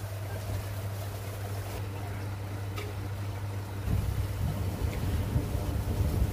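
A Samsung Wobble WA85H4200SG top-loading washing machine fills with water while its drum turns: a steady low mechanical hum with running-water noise that grows louder and busier midway through.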